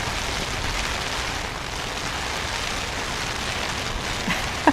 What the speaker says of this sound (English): it's just so much rain, you can't see anything